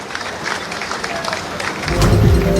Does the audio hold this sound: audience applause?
yes